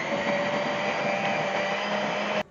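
An electric mixer blends red and blue food coloring into a mixture with a steady, loud, droning whir that stops abruptly near the end.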